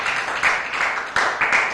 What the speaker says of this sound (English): Give yourselves a little round of applause.